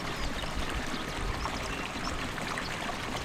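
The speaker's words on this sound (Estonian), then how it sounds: "Vesi terve jookseb lihtsalt." Water running steadily, heard while hiking the Peaks of the Balkans trail near a spot where drinks are sold; a continuous, fairly loud broadband rush and trickle with no pauses and no talking.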